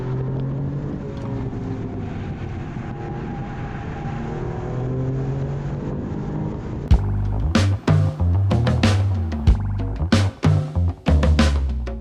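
A 2024 Alfa Romeo Giulia Quadrifoglio engine driven hard, a loud steady drone with changing pitch, then sharp revving bursts and gear-change gaps with pops near the end, heard from up close with no talking.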